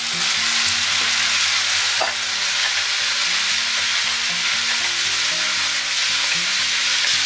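Sliced celery stir-fries with cashews in a hot pan for cashew chicken, giving a loud, steady, close sizzle with a constant bright hiss and no speech.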